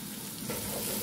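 Egusi sauce (ground melon seeds with spinach) being stirred in a pot after shrimp powder and fish powder go in, giving a steady close sizzle with soft scraping that grows slightly louder partway through, with no talking.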